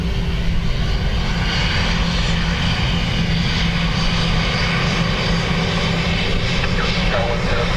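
A fixed-wing aircraft arrives at Dublin Airport on a blustery day, its steady engine roar continuous and fairly loud throughout under strong wind.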